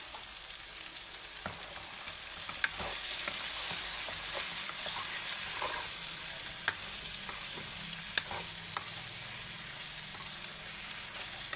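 Eggplant curry with chilli powder being stirred in a pan, a steady soft sizzle of frying underneath occasional scraping clicks of the spoon against the pan, fairly quiet and without talk.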